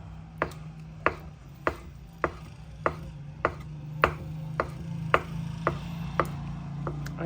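A knife chopping cooked octopus into rings on a cutting board, about a dozen sharp, evenly spaced close taps over a faint low hum, with no speech.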